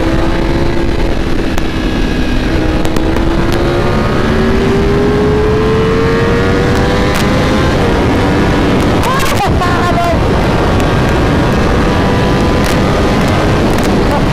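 A Ducati V4 Speciale motorcycle runs flat out near 299 km/h, its engine note climbing steadily under a loud, constant roar of wind buffeting the microphone.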